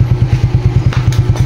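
Idling Smash 115 motorcycle with an aftermarket full-wave setup and a nine-month-old stock battery, heard close up as a loud, steady, rhythmic thumping with clatter and no voices.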